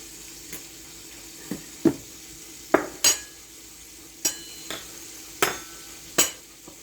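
Food frying in a pan at medium heat beneath a splatter guard, a steady close sizzle broken by sharp irregular crackles and pops every second or so, with faint utensil clinks.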